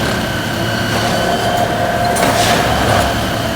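A railway track tamping machine lifts the rails and packs ballast under the sleepers at a level crossing north of Ban Pong station, giving off a steady, loud mechanical drone and rumble with faint squeals and clanks, with no talk.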